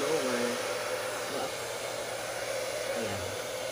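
A hair dryer blows steadily and close by on hair treated with serum, its constant airy rush unbroken from start to finish with faint voice traces beneath.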